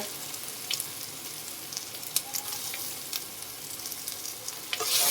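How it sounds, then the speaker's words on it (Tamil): Handfuls of mint and coriander leaves sautéing in a pan for prawn biryani, a steady soft sizzle with occasional scraping stirs, close and continuous with no talk. "ஒரு கைப்பிடி புதினா, ஒரு கைப்பிடி கொத்தமல்லி இலை, இதையும் போட்டு நல்லா வதக்கி எடுத்துக்கலாங்க"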